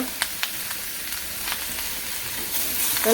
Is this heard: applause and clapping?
no